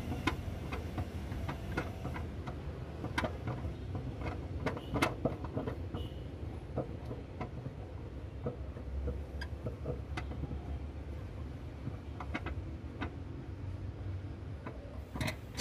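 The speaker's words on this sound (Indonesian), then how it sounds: "Putar secara perlahan sampai pengunci ban serep ini dapat terlepas." A car's spare tire lock being slowly turned by hand to release it, producing a long run of irregular clicks and ticks, some sharper and louder than others, over a low rumbling background with no voices.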